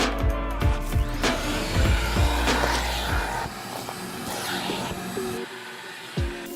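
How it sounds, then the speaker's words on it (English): A shop vac cleans a van's car interior, its steady motor drone broken by repeated knocks and scraping bumps as the nozzle moves over surfaces. "vacuum the exposed area on your car interior"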